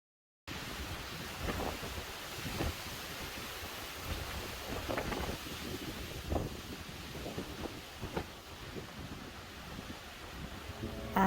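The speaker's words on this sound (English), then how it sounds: "the last day it was really windy" Steady, roaring wind at a campsite buffets the microphone throughout, with occasional louder gusts and a broad rushing noise, no voices.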